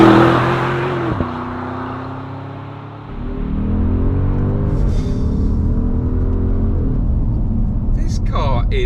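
Audi SQ7 V8 petrol engine accelerating hard, a loud deep rumble that swells and stays strong, heard from inside the car with a brief dip partway through.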